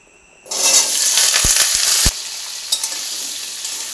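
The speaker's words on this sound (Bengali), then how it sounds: "আলুটা একটু ভালোভাবে ভেজে নেব" Cut potato pieces drop into hot mustard oil in a wok and burst into a loud, steady sizzle, with a few sharp clacks of stirring before the frying settles into a softer hiss.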